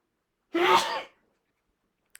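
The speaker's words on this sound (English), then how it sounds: "You're gonna sneeze, you're gonna sniffle." One sharp sneeze from a sick podcaster, close and brief, standing alone in otherwise quiet surroundings.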